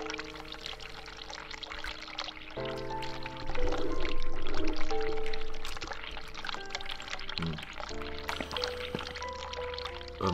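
Tap water runs and pours in a room in the video game The Cat Lady, a continuous splashing stream mixed with game music and tones, swelling briefly louder midway.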